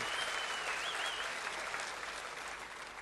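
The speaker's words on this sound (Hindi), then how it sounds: "तीनों बेटियों का ताली बजा के स्वागत करें" An audience claps steadily at a political rally in Maharashtra, welcoming three daughters, the applause dense and loud throughout with no one speaking over it.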